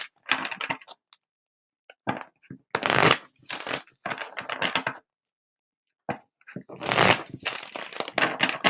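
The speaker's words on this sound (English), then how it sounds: "Let me get a few clearing shuffles, and then Taylor will get started on yours." Cards are shuffled in several quick riffling bursts separated by short pauses, crisp and close, with soft handling clicks between.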